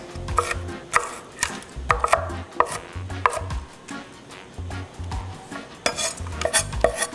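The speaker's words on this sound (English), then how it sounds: "You're just going to chop the onion into some rough, small pieces." A knife chops green onion into small pieces on a cutting board with a rapid, steady run of close, crisp taps. The taps come in short bursts with brief pauses between them, and no one speaks.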